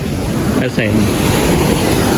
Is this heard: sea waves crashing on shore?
yes